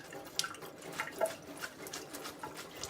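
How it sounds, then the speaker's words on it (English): Water drips and trickles from freshly cooked linguini being shaken in a kitchen strainer, a faint, close patter of scattered droplets with no voices. "as I'm shaking, you can hear water dripping"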